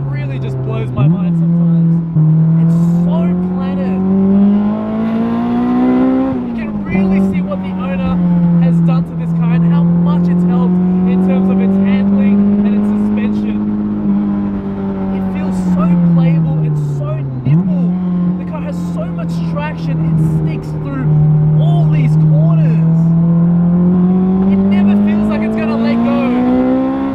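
Spoon-tuned 20-year-old Honda S2000 engine on track, holding a loud, steady high-revving drone with sharp pitch jumps on each crisp downshift, heard up close over about half a minute.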